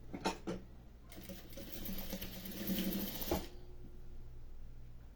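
A sewing machine stitches the crotch seam of a fabric rabbit toy, running in steady mechanical bursts with a short start and a longer continuous run before stopping, close and fairly quiet.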